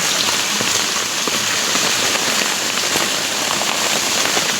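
A heavy downpour drums on a hard surface nearby, a dense, continuous patter of raindrops holding steady and loud throughout.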